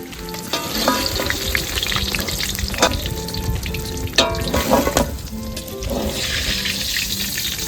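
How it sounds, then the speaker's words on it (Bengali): Slices of pointed gourd sizzle and crackle steadily in hot oil in a home kitchen, with brief stirring clatter and a few scraping knocks breaking through the continuous close frying hiss. "পটল ভাজা এই তো প্রায় হয়েই এসছে।"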